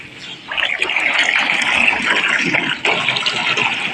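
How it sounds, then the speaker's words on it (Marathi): Borewell water gushing into a goat feeding trough on a farm, a loud steady splashing flow that starts abruptly and then runs continuously, close by. "आता याच्यामध्ये पाणी सोडलेलं आहे दावणीमध्ये"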